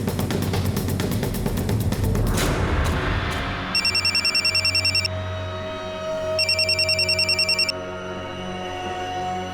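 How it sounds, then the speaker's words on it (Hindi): An electronic telephone ring sounds in two evenly spaced bursts of rapid trilling, loud and clear over a steady low hum after a brief rumbling noise. "इस नंबर पे फोन लगा के देखो।"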